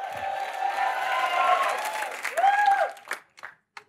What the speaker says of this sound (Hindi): बॉस, जोरदार तालियां मेरे लिए.